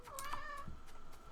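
A house cat lets out a short, close meow with a rising then falling tone, followed by a fainter trailing cry, all within about a second indoors.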